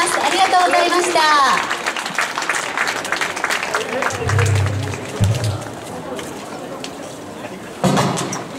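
Applause and crowd murmur from an audience at an outdoor shopping-center event after a Shōwa-era band performance, a dense patter of clapping with chatter mixed in, fading then briefly swelling near the end.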